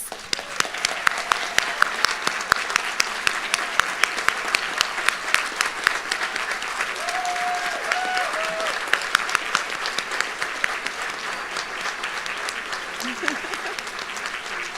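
A large audience at a winter university nursing graduation ceremony gives the graduates a final round of applause, with dense steady clapping and sharp individual claps standing out, while faint voices can be heard beneath it.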